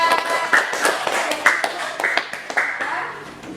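Clapping from a small group, likely children in an Islamic religious education classroom, for a pupil named Naya; a few sharp, irregular claps over a steady murmur of voices and room noise.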